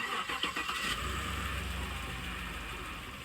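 A Chevrolet 5.3 V8 with a suspected failed lifter cranks and catches, then idles steadily nearby with a rough mechanical clatter throughout, no talking.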